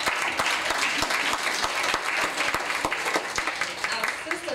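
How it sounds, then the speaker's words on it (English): At a church Men and Women's Day program, the congregation gives a round of applause, dense continuous clapping with distinct louder claps from nearby hands, steady throughout. "Y'all give a round of applause."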